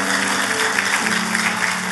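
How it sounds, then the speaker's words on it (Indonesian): An Indonesian church congregation gives lively applause to God during a service. The clapping is loud and continuous, with a low sustained tone, likely an organ or keyboard, running underneath. "Boleh kita kasih tepuk tangan yang meriah buat Tuhan kita"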